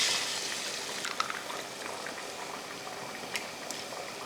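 Eggs go into a pan of sautéed carrot and tomato for carrot egg rice, setting off a steady close sizzle and bubbling that runs throughout, with a few faint clicks and pops.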